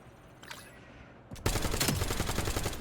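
Rapid automatic gunfire in a Nuketown match of a first-person shooter game, a quieter burst early on, then a loud sustained stream of shots from about the midpoint to the end, with no talking.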